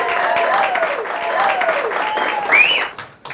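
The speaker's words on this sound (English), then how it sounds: "Ladies and gentlemen, please make welcome to the stage, Justin Mclean." A comedy-show audience claps and cheers to welcome a comedian to the stage, with lively applause and whooping voices carrying over it before it tapers off.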